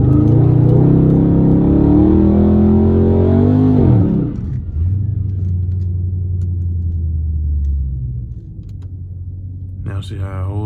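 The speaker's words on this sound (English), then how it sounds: "Me get a little burnout in." A Dodge 392 Scat Pack is held at high revs for a burnout launch in cold weather, a loud, close roar that cuts off abruptly into a lower steady rumble, then fades. A voice joins briefly at the end.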